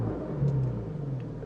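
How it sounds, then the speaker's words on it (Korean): A Porsche 718 Boxster GTS 4.0 engine with sport exhaust runs with a deep, steady burble and a slight rise in revs, close and continuous with no voices. "스포츠 배기 시스템, 엔진 사운드를 좀 더 웅장하고 굵고 다이나믹하게 들을 수 있게 해주는 겁니다."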